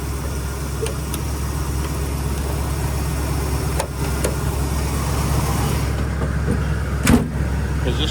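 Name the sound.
1977 Jeep CJ-7 V8 engine running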